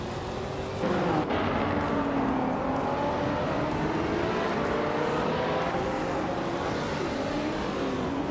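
Race car engines from a racing video game, with a 2017 Honda NSX in the lead, drone and rev steadily and loudly, their rising and falling pitch sweeping through a continuous close roar with no talk.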